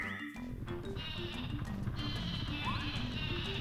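The Sleepy Sheep item in the Paper Mario 64 video game bleats in a short series of game sounds, with chirpy electronic tones and tinkling effects layered over a busy music track.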